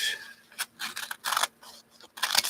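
Scissors snip through quilt fabric during a quilting session, several short crisp cuts in separate bursts, close and fairly quiet.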